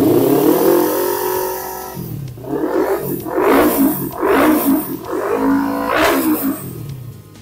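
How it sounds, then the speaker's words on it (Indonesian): A Kawasaki Ninja 250 FI motorcycle with an aftermarket exhaust revs up close and loud, first settling from an idle rumble, then rising in four or five sharp, deep, roaring throttle blips in quick succession. "Ciri khas knalpot mahal suaranya begitu"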